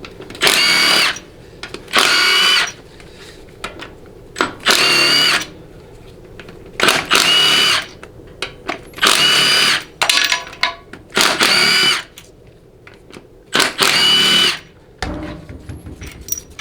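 Power tool spinning out 13mm pump bolts on a 4L60E transmission during teardown, heard as eight loud, close whirring bursts of about a second each with short quiet gaps between them and no talking.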